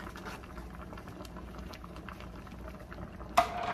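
Skate braising with onion in a pot, bubbling at a soft, steady simmer with faint popping, then a sharp clink of a utensil against the pot near the end; no talking.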